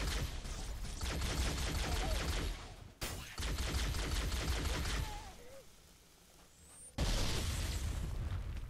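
Plasma pistol fire against grunts in Halo: CE Anniversary: dense bursts of rapid energy shots and pops, loud and close, breaking off briefly around three seconds and fading to a lull before resuming.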